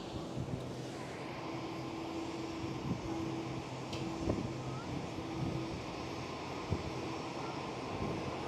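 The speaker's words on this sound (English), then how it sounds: "Delta Airlines A330 lining up on the runway right now" A Delta Airlines Airbus A330 lines up on the runway at Schiphol, its engines a low, distant, steady drone with a faint whine over wind and background noise.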